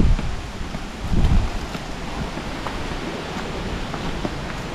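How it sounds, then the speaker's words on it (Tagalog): Wind gusts across an open rural spot in the Philippine countryside, a steady broadband rush with a stronger buffet near the start, continuous and fairly close with no voices. "Hangin."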